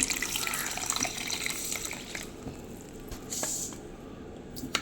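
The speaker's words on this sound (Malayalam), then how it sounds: "ഇത്തിരി വെള്ളം ഒഴിച്ചു കൊടുക്കാം" Water splashes and trickles into a bowl of seeds soaking for lemon juice, a soft running pour that eases off, with faint clinks.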